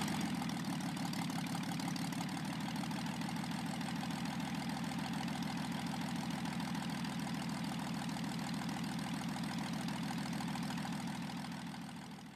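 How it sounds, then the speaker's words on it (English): A steady, droning inverted six-cylinder air-cooled Ranger engine on a PT-19 aircraft idles continuously at close range, a deep rumbling throb with even rhythm, fading slightly at the end. "the Ranger engine in the PT-19, it's an upside down engine, it's inverted, 6-cylinder, air-cooled"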